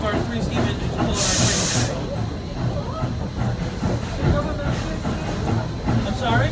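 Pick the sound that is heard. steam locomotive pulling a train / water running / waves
steam locomotive pulling a train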